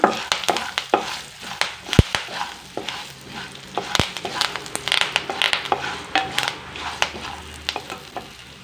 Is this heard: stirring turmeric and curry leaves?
yes